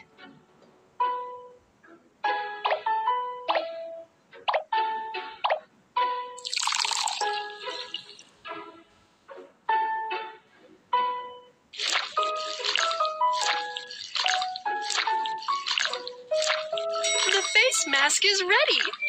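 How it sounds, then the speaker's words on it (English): Milk pouring in a Little Panda's Pet Salon grooming game: a short burst of liquid splashing amid bright, plinking chime-like game effects and musical tones that continue throughout. "Add some milk."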